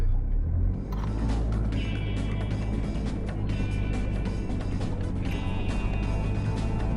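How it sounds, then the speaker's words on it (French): A car drives along a national road, its engine rumbling steadily with broad road and wind noise from inside the cabin. "la voiture en train de rouler sur la route nationale"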